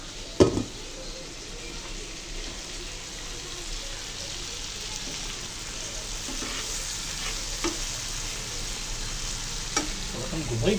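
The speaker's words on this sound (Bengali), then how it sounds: "এই মাছ ভাজা হয়েছে।" Pieces of rohu fish fry in a pan with a soft, steady sizzle, broken by a few sharp clinks of a spatula or utensil. The sound stays low and continuous throughout.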